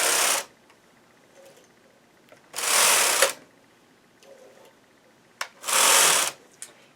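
A knitting machine carriage set one click beyond tension 10 sweeps yarn across the needles of a graphic diamonds afghan blanket, making three loud whirring passes separated by quiet pauses with faint clicks.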